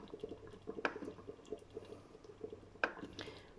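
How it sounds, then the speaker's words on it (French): Carrots, red wine marinade and meat go into a Cookeo pressure cooker for beef bourguignon, making soft wet squelches and liquid drips, quiet and irregular, with two sharper clinks standing out. "vous mettez vos carottes avec votre viande, la marinade, et cuisson sous pression"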